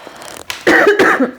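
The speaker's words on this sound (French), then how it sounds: "J'arrête pas de tousser." A person nearby lets out a couple of harsh, throaty coughs in quick succession, loud and close.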